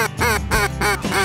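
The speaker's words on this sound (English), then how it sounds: "look at those mallards that are up there" Mallard ducks quack loudly and close by during a waterfowl hunt, a rapid series of four or five raspy calls in quick rhythm.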